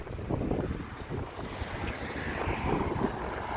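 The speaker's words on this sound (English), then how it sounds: "Crazy wind here, up to 100 k's an hour." Strong storm wind in Adelaide gusting up to about 100 km/h, a loud, continuous roaring rush that buffets the microphone, steady throughout with no voices.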